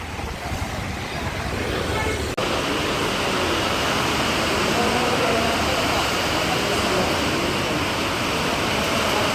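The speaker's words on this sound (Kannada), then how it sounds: "ಫುಲ್ಲು ಮಳೆ ಗಾಯ್ಸ್." Heavy rain pours down in a dense, even hiss that stays loud and unbroken throughout, with a brief dropout near the start.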